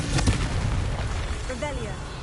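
A Confringo fire-blast spell from Hogwarts Legacy bursts with a booming explosive crack at the start, then a rumbling decay and a few fainter crackles.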